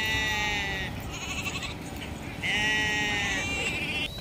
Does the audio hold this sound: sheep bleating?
yes